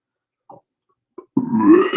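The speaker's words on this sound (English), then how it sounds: "Double burp." A person burps twice, two short quiet burps close together followed by a longer, louder, drawn-out belch, close and alone with no talking.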